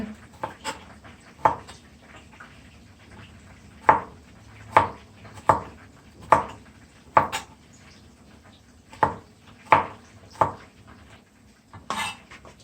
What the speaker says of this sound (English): I'm cutting on the garlic.